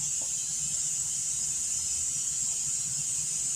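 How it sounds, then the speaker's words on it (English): A steady high hiss of escaping steam runs continuously throughout, with faint low rumble underneath. "It's just releasing steam."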